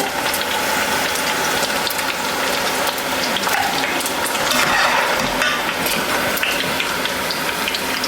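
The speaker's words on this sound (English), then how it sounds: "Just shaking off excess oil." Golden fried potatoes are shaken in a metal fry basket to drain excess oil, giving a steady metallic rattle and clatter over a continuous hiss of hot oil for the whole stretch.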